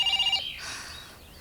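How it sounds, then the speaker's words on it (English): A short electronic telephone ring warbles for under half a second, then fades into quiet room noise. "your phone's ringing"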